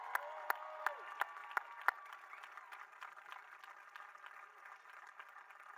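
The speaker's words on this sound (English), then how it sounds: "we're going to give you a big round of applause for all your work" Audience applause honoring the staff of Norton West Louisville Hospital, a few sharp claps up front followed by a steady, soft patter of clapping from a gathered crowd.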